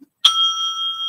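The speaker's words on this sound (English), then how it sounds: "The timekeeper will then ring the bell once again" A single clear bell strike from a debate timekeeper rings out sharply, then sustains with a steady bright tone that slowly fades, heard alone without talk.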